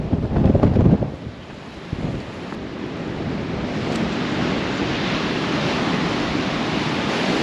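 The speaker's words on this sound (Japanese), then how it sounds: "風もね、速い。" Strong wind and crashing sea waves on the Japan Sea coast near Kabuto Rock by an old national road in Shimamaki, Hokkaido, a loud continuous roar with heavy buffeting gusts on the microphone at the start.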